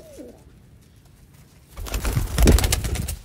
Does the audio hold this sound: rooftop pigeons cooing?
yes